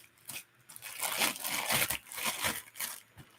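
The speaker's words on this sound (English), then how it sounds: "Got a little tied up plastic bag here." Crinkly plastic rustling and crackling in bursts, as a bag is handled and pulled open close by.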